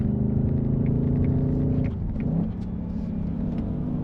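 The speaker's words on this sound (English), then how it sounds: "This feels like a rear drive hot hatch with a V8 engine." A rear-drive car with a V8 engine being driven, its deep engine rumble steady and close for a couple of seconds, then easing slightly as the drone continues at a lower level.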